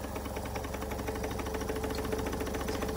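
A model steam engine runs on compressed air, giving a steady fast chuffing and mechanical clatter with an even, continuous rhythm at close range.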